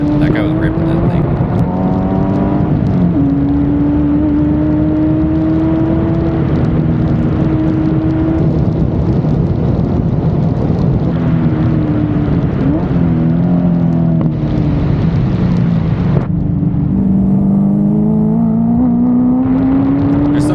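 A supercharged C5 Corvette Z06 races at Sebring at wide open throttle, its engine droning loud and close from inside the car with rising and falling revs through gear changes, while someone talks over it.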